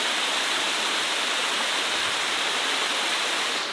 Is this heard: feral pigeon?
no